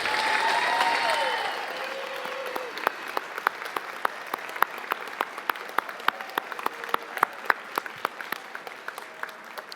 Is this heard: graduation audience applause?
yes